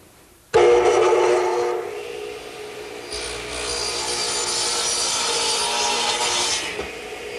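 A radial arm saw bites into a wooden board for birdhouse siding, starting abruptly with a loud whine that drops to a steadier grinding cut before fading as the blade clears the wood.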